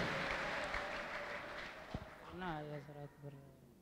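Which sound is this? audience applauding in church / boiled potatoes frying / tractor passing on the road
audience applauding in church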